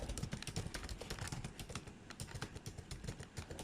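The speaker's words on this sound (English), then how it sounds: "let me type out this tags" Rapid, even keystrokes on a computer keyboard during data entry, a close, quiet run of crisp clicks with no talking.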